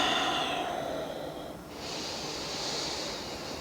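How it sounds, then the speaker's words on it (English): Slow, deep breaths taken during a calm relaxation exercise, a long airy inhale easing off and followed by a soft exhale, close and gentle with no talking. "take a couple breaths"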